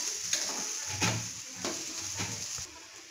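Finely chopped radish fries with browned onions in a pan under a continuous sizzle. A spoon scrapes and stirs through it in several separate strokes, close by. No one speaks.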